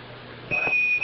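A steady high-pitched electronic beep tone, the Apollo 11 lunar module's 1202 computer program alarm from the 1969 Moon landing, cuts in halfway through and holds, alone over faint static hiss.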